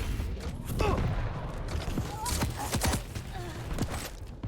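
Machine gun and railgun fire from a 4v4 team deathmatch match in Quake: sharp shots and zaps pop at irregular intervals beneath steady, fast commentary.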